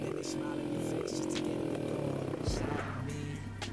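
A motorcycle engine in the video game GTA San Andreas hums at low volume, then its pitch sweeps sharply upward as it accelerates, with a voice talking over it.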